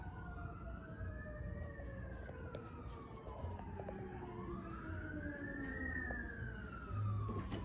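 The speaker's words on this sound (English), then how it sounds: "there goes an ambulance" Ambulance siren wailing as it passes a mobile home park in Largo, Florida, rising and falling in slow sweeps, fairly distant and faint over steady outdoor background noise, with no talk.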